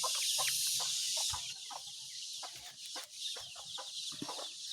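A mother hen clucks in short repeated bursts against a bright, steady high hiss of outdoor background, the clucks coming close and irregular.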